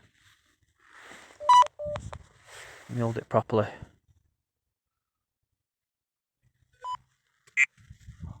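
A few sharp electronic beeps ring out near a quiet voice, then after a pause two more short beeps sound, with soft rustling between them.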